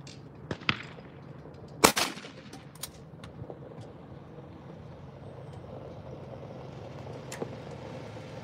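Gunfire at a shooting range on Christmas, a few sharp cracks clustered early and one later, moderately distant over steady outdoor background hum.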